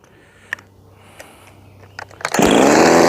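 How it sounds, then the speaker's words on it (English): A machined and ported Jonsered 2152 chainsaw makes a few clicks and taps, then abruptly roars to life at high revs, loud and close, holding a steady scream to the end. "I am very happy about my Jonsered running this good."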